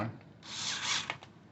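A screwdriver turns a screw into a G70 housing seal: a brief close scraping, grinding twist followed by a couple of small clicks, faint and quiet.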